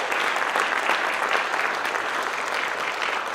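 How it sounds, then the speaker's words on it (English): Audience at a high school top-students ceremony gives a sustained, even round of applause for the students, dense clapping filling the room throughout. "Can we give another round of applause for all of the students?"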